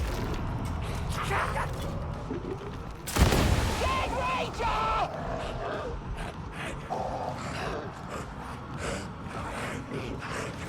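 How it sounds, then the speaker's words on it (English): In a Warhammer video game, a rocket launcher fires one loud, heavy blast partway through, amid ongoing battle clatter and scattered voices. "Rocket Launcher, aiming for best targets and density."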